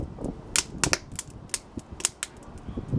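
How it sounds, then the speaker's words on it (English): Wood crackles and pops in a rocket stove fire, sharp irregular snaps close by, a dozen or so in quick succession over a low rushing burn. "that fire sounds like it's really going well now"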